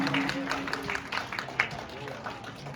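Children clap loudly and applaud at a school annual day. The applause is brief and scattered, mixed with crowd noise.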